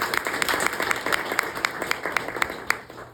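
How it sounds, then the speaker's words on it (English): A smaller group applauds, with a few sharp, distinct claps standing out over a softer wash of clapping. "they definitely deserve another round of applause"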